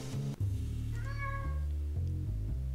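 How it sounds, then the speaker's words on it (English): A cat meows in the video game Lone Survivor, a single drawn-out, tonal meow over a steady droning game music background. "Hey, the cat said meow."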